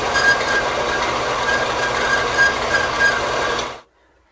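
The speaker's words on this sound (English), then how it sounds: "I'm going to go over here to the bandsaw, rough cut this down to size" A bandsaw rough-cuts flat rolled bar stock with a loud, continuous grinding rasp that holds steady for nearly four seconds before stopping abruptly into silence.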